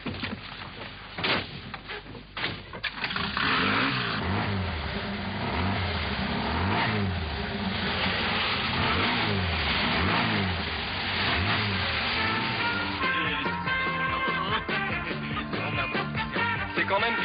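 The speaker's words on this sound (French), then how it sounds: "je vais faire tourner le moteur" A car engine revs steadily and loudly in rising and falling surges, a continuous near drone that runs for the whole stretch, with a brief clatter near the start.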